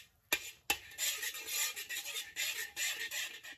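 Spatula stir-frying in a wok over medium-low heat: two sharp scrapes against the metal, then a steady, rhythmic hiss and sizzle with repeated scraping strokes, close and moderately quiet.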